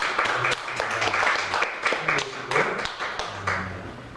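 A church congregation applauds during an afternoon sermon, with scattered rhythmic claps in uneven bursts mixed with taps and some voices.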